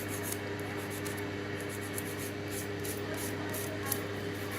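Filing an acrylic nail gives a fast, steady rasping scratch, repeated short strokes close up over a constant background hum.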